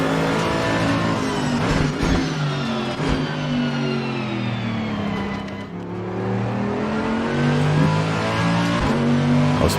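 Race car engine in Assetto Corsa Competizione, droning loud and continuous with rising and falling pitch as it revs through gears and brakes for corners, heard alone without talk.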